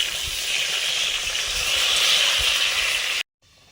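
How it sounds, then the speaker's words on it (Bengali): Pointed gourd frying in a pan beside a fish curry, giving a steady close hiss and sizzle that runs evenly for about three seconds before cutting off abruptly. "মাছের তরকারির সঙ্গে বরবটি আর যে পটল ভাজা হচ্ছে"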